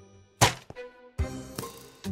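Bow arrows striking a player in the video game Minecraft: a few sharp, dull thunks with short gaps between them, close and distinct against a quiet in-game background.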